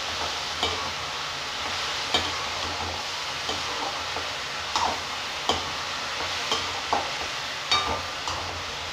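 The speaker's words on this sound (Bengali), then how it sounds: "ভালো করে মিক্স করে নাড়িয়ে আবার ঢাকা দিয়ে দেব যতক্ষণ জল না বেরোয়।" Spiced food with salt and turmeric fries and sizzles in a pan while a utensil stirs it, with regular scraping clacks about once a second over a steady low sizzle.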